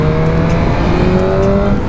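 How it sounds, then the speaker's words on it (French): A BMW M1000R motorcycle engine running, a loud steady droning hum with a slowly shifting pitch, close and continuous with no talking. "Le son du moteur est très cool."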